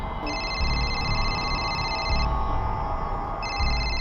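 A telephone rings in repeated electronic bursts over a noisy, rumbling background, two long rings with a pause between.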